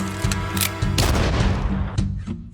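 Loud pistol gunshots crack close by, several sharp blasts within a dense, noisy, rumbling mix that stays busy throughout.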